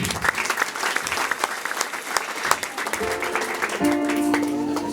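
An audience applauds during a church sermon, with dense, continuous clapping from a crowd that swells slightly toward the end, along with some steady tonal background sound.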